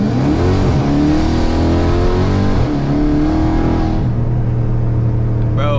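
Dodge Hellcat fitted with drag springs accelerating hard from a slight roll, a loud, close, continuous engine roar whose pitch climbs through the gears and then settles into a steady high drone.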